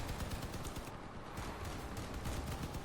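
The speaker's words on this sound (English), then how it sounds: "it looks like they might just be using a machine gun" Rapid, sustained machine gun fire from a vehicle in the combat game Crossout, a fast unbroken stream of loud, close shots with no speech.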